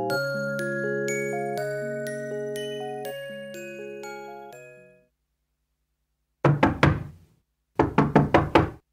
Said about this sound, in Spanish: Durante la cena, alguien golpea la puerta.